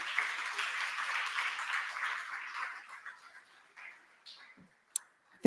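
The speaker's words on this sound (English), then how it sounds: "Another hand of applause for the Premier." Audience applause for the Premier at an LNG and bunkering service ceremony, a steady wash of clapping that fades out over several seconds, ending with a couple of isolated claps.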